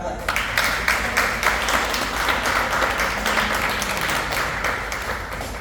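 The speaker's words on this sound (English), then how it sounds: "Can you continue to clap for her?" An audience at a breast cancer survivors' empowerment event keeps clapping in steady, continuous applause, with a voice speaking faintly beneath the clapping.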